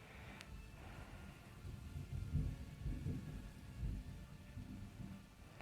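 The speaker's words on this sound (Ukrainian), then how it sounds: "зараз нас гримить" A low thunder rumble rolls through a stormy scene in a Roblox game, swelling and fading in several soft waves over steady rain-like hiss, fairly faint and with no voices.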